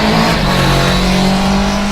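A motor engine roars loudly and continuously as a bike pulls away, a steady droning hum with no pauses throughout.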